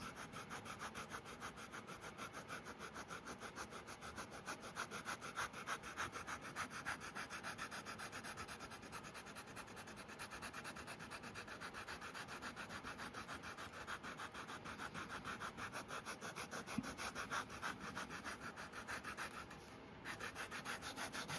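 The edges of a leather trifold wallet are sanded by hand with steady, rapid back-and-forth scratchy strokes that continue evenly at close range, with no talking.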